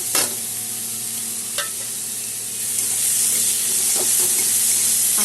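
Red amaranth greens being stirred in a pan with fried sesame seeds and a little sugar: a scraping, stirring rustle with a soft sizzle, a few sharper utensil knocks, and a steady hiss.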